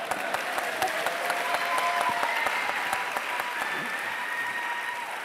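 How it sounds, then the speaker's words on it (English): Steady applause from a crowd at a television industry festival session fills the room, many hands clapping continuously at a moderate level, with faint voices mixed in. "round of applause for ITV."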